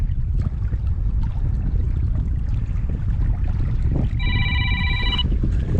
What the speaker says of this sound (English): Sorry about that, I got a phone call.